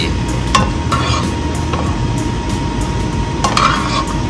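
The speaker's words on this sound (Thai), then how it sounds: "เป็นสปาเกตตี้ผัดกะเพราหมูสับ" Spaghetti stir-fried in a pan with holy basil and minced pork: loud, close, continuous scraping and tossing with sizzle underneath and occasional sharp clinks of utensil on pan, no voices.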